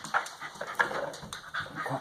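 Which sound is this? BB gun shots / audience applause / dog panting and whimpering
dog panting and whimpering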